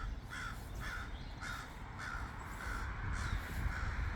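A crow caws repeatedly from up in a garden setting, about seven evenly spaced harsh calls over steady outdoor background noise.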